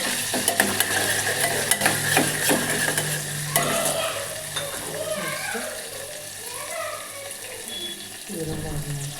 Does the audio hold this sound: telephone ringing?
no